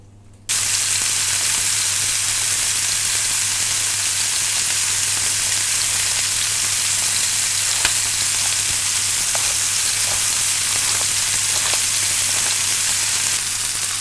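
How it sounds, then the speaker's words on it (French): Burger steaks frying in a pan, a loud, dense, continuous sizzle like heavy rain that starts abruptly and holds steady, with occasional crackles and a low hum underneath, no talking. "on y va pour cuire les steaks"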